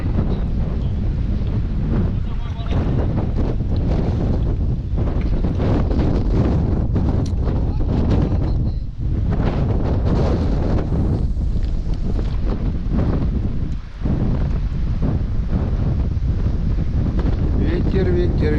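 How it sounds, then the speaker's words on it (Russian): Wind buffets a microphone outdoors on a late-September fishing trip, a steady low roar with gusting surges that dip briefly twice, filling the scene with no voices. "Ветер, ветер, ветерок."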